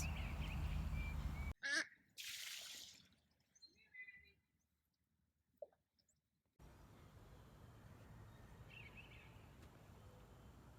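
Mallard ducks at a pond give a few faint, scattered quacks and calls, broken by abrupt cuts and quiet stretches, with low background noise.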